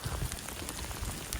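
Rain patters on a hiking trail on the Pacific Crest Trail just after a hailstorm, a faint, brief spray of scattered drops hitting nearby surfaces, with no voices.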